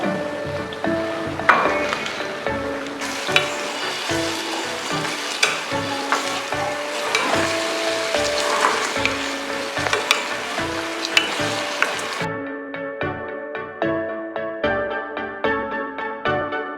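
Tomatoes added to a fresh turmeric sabji fry in a pan, a steady loud sizzle with spoon stirring and scraping, the sizzle suddenly thinning to lighter crackles near the end.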